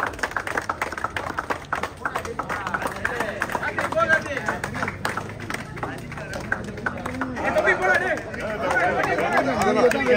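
An audience applauding at a cricket champions trophy presentation, a dense run of claps mixed with crowd chatter and a voice talking over it for several seconds.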